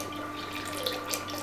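Water trickles steadily through the cooling tube of a 40W CO2 laser, flowing slowly, a soft continuous wash with a faint hum underneath and no voices.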